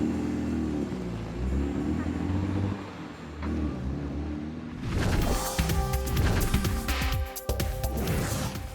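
A sports car pulls away, its engine rising into a loud, revving roar about halfway through after a quieter stretch of low rumble.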